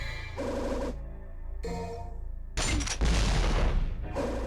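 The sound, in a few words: grenade gun firing in Devil May Cry video game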